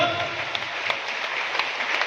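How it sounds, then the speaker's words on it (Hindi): Crowd of students at a Prajapati student camp in Sumerpur applauding their parents, a continuous, full round of clapping that holds steady from start to end. "अपने मम्मी पापा के लिए तालियां बजाएं"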